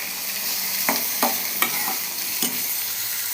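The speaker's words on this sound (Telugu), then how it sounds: "నూనెలో ఇప్పుడు కరివేపాకు, టమోటా ముక్కలు వేసుకొని వేయించుకోవాలి" Curry leaves and tomato pieces fry in hot oil for a vermicelli upma, a steady loud sizzle with a few sharp clinks of a spoon stirring the pan, close and without talk.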